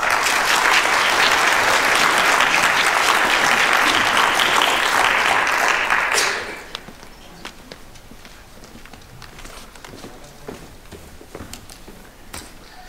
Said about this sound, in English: please let's give a great round of applause to my friend